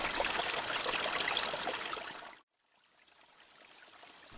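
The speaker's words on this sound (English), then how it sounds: "I encountered a number of beautiful and enchanting features, like the streams and small cascades of waterfalls that you see here." A small mountain stream with little cascades along the Balsam Mountain–Palmer Creek trail in the Great Smoky Mountains rushes in a dense, close hiss, then cuts off abruptly and returns as a fainter, more distant burble.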